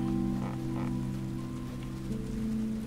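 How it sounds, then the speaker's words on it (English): Rain falls steadily in the farming game Paleo Pines, a continuous patter heard alone under a soft, looping musical tone. "Okay, it's raining today,"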